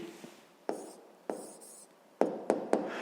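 Pen writing down an answer to a 5th-grade maths exercise, a few quick close scratchy strokes in short bursts with pauses between, quiet room, no speech.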